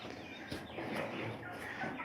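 Chickens and young birds cluck softly in a coop, a few low, scattered clucks and murmurs close by, faint and without speech.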